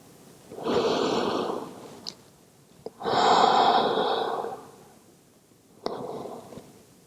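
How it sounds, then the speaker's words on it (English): Slow, deliberate breaths during a Pilates floor exercise with the forehead lowered, two long airy exhales and a shorter third, close and soft with quiet pauses between. "Taking a couple of breaths here."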